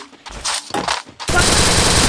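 Short bursts of rapid MP40 submachine gun fire in Free Fire, then a sustained loud automatic stream, close and harsh, like game weapon audio.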